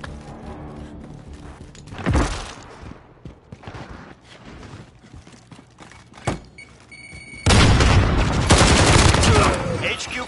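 Video-game gunfire crackles in bursts of shots and heavy thumps, ending in a loud sustained stretch of rapid fire, with a player talking now and then.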